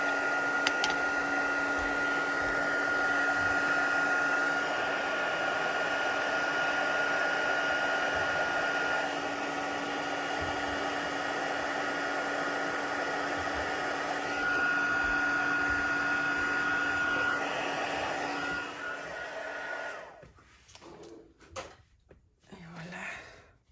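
Heat tool blowing hot air over a graduation card, a steady loud whirring fan with a high tonal whine running close and continuous for about twenty seconds before switching off, followed by a few faint handling knocks.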